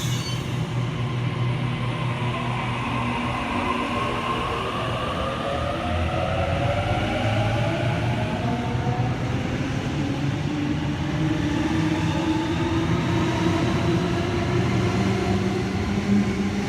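A Series 1 Waratah electric train pulls out of Platform 2 at Edmondson Park, Sydney, with a loud steady rumble of wheels and a rising motor whine as it gathers speed.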